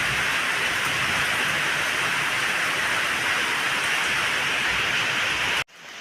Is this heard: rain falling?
yes